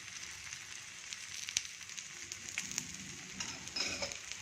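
Oil sizzling on a cucumber dosa in a hot pan, a steady soft crackling hiss with a few sharper pops, fairly quiet and heard alone without talk.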